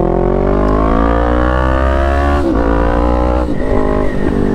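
A 2022 Honda CB 500 F motorcycle with a stainless steel 304 Atalla header idles steadily and close, a deep, even engine drone with a low pulse, shifting slightly in pitch partway through, with no talk over it.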